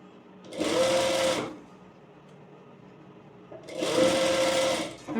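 A sewing machine stitches through three fabric layers of a blouse in two short bursts of rapid whirring, each about a second long, separated by a quiet pause.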